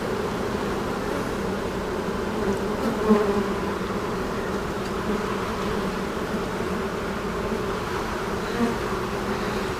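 A relocated honey bee swarm in an opened hive gives a dense, continuous buzzing that holds close and steady throughout, with faint handling noises and no talking.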